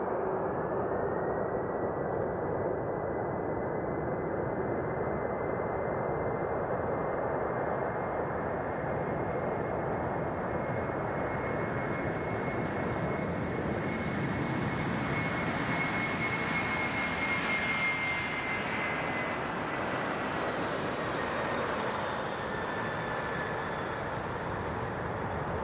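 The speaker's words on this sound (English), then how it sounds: "You just hear the engine spooling up." Stratolaunch Roc aircraft rolling down runway 30 at Mojave, its jet engines spooling up into a steady, loud roar with a rising whine that builds and brightens over the takeoff roll.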